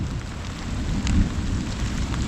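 Morning rain with thunder, a heavy steady downpour hiss under a deep rolling rumble that swells briefly in the middle, loud and close with no voices.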